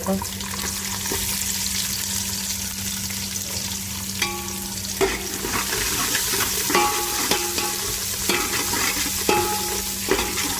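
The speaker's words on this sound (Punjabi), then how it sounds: "ਲਸਣ ਹੋ ਗਿਆ ਜੀ ਆਪਣਾ ਬਰਾਊਨ ਹੁਣ ਸਿੱਟਾਂਗੇ ਵਿੱਚ ਇਹਦੇ ਪਿਆਜ਼" Onions fry with browned garlic in a large pot for Punjabi-style egg masala pasta, producing a constant loud sizzle with repeated spatula scrapes and knocks against the metal, no speech.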